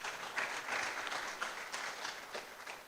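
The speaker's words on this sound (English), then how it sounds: "clap for him, please" An audience at an inaugural lecture claps steadily for a collaborator, a moderate, even spread of many hands with a few sharper individual claps standing out.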